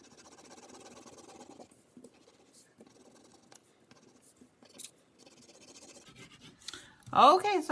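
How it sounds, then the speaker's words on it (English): A whole sheet of paper is colored yellow with quick, sped-up scratchy scribbling strokes, rising and falling in bursts, with a brief squeaky sound near the end. "I'm going to just color this whole paper yellow."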